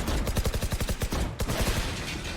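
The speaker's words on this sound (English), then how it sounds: "I'm just bullying them with the shotgun." Rapid bursts of shotgun fire from an agent in the tactical shooter game Valorant, a dozen sharp close blasts in quick rhythmic succession with a brief gap midway, loud and dry over game ambience.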